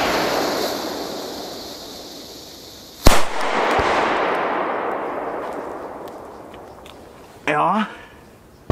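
A Wipper 3 firecracker bursts with a single sharp, loud crack about a third of the way in, trailed by a smaller pop and fading hiss, and a brief voice is heard near the end.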